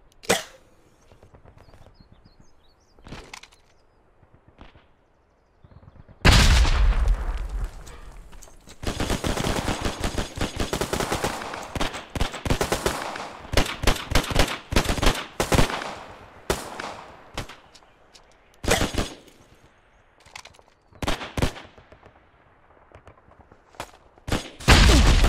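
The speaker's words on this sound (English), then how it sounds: "Yeah, I got the machine gun." Machine gun fire in the World War II shooter Hell Let Loose, loud close bursts of rapid automatic shots in long rattling strings, broken by pauses and a few distant single shots.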